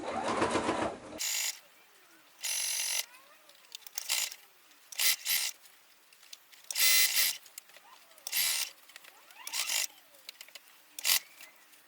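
A sewing machine top-stitches a tote bag made from shirt scraps, running in several short bursts of steady whirring separated by quiet pauses, close and fairly loud.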